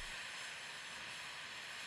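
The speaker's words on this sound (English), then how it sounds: "tap into high temperature water and steam that shoots up towards the Earth's surface with high pressure" High-pressure geothermal steam hisses from a deep drill hole in Iceland as a steady, unbroken broadband roar that holds the same loudness throughout.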